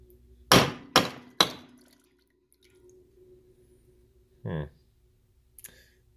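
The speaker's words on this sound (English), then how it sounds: "I'm hitting it with a hammer" A hammer strikes a mini cooler's compressor three times in quick succession, sharp metallic clanks up close, followed by quiet, a short dull knock and a faint final tap.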